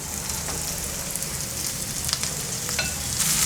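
Shallots frying in ghee with ginger and garlic for a prawn ghee roast, stirred in the pan: dense, rain-like crackling sizzle over a low hum, with a few crisp utensil scrapes and no talking.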